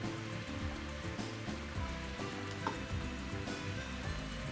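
Steady rain hiss in the Mario Golf video game, a dense, even patter with faint droplet ticks running unbroken under a low ambient bed, with no talk.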